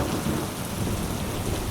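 Steady rain pours in a cartoon storm with a continuous low thunder rumble underneath, loud and close, no voices.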